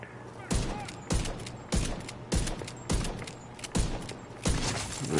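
Single gunshots in The Division 2, about eight sharp reports spaced roughly half a second apart in a steady rhythm, fairly close and loud over faint game ambience.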